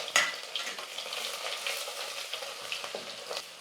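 Crushed small garlic cloves frying in oil that was used for fish, a close crackling sizzle with scattered sharp pops and spits throughout, no talking.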